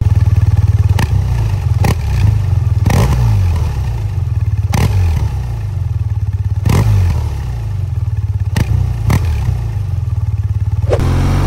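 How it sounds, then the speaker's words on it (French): A 2024 BMW R12 1170cc boxer cruiser's exhaust drones loud and close, broken by several sharp quickshifter blips and pops as gears change in a rhythmic series. "J'aime beaucoup le son de l'échappement avec le petit retour quand tu mets un petit coup de"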